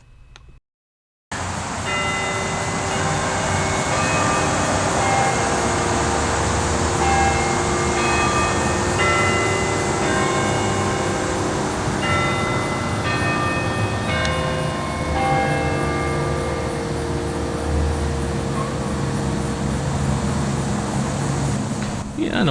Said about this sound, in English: And we'll hear the chimes again